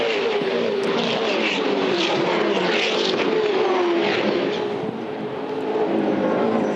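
V8 Supercar race cars at the 2010 Yas 400, with Fords among the pack, roaring together at the start into turn one as a loud, sustained engine drone with shifting pitch and no voices.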